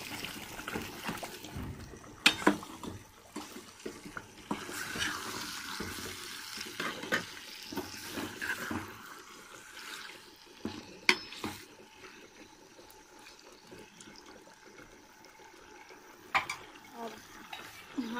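Chicken liver frying in a pan with onion, stirred with a spoon: sizzling and scraping with clanks and knocks against the pan, continuing steadily, while someone speaks at times.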